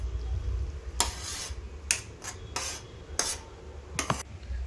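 Spoon stirring cardamom powder into almond milk kheer in a pot, a handful of separate scraping strokes with quiet gaps between them, close and moderately loud, nothing else alongside.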